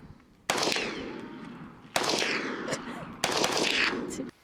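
An AK-47 rifle fires three separate bursts of rapid automatic gunfire, each loud, sharp-edged and echoing at an outdoor range, spaced a second or so apart.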